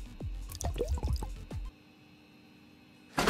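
Oil being poured in Gas Station Simulator, a series of glugging, dripping liquid sounds for over a second, then a quiet pause before a short noisy burst.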